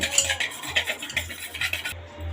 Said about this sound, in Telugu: బాగా బీట్ చేసుకుందాం దీన్ని.